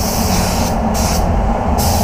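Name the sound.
spray gun spraying clear coat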